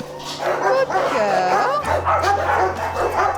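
Dogs in a shelter shop window, several of them yipping, whimpering and barking in a loud, busy overlapping chorus close by, with a steady low hum underneath.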